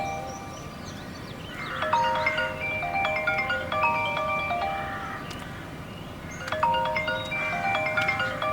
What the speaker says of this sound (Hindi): खाला, आपका फोन बज रहा है।